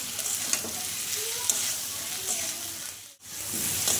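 Spice masala is stir-fried in a pan with a hilsa fish head and sugar, a steady close sizzle and fry with faint scraping stirs and a brief dip in the sound near the end.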